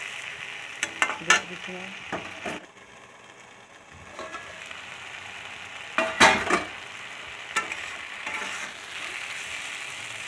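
Vegetables with spices stirred as they fry in a pan, a steady sizzle broken by several sharp scraping and clattering strokes of the spoon against the pan, with a brief spoken word.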